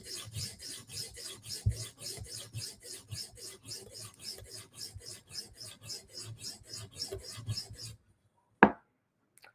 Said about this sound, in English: So just sharpening at the right angle until we get a burr.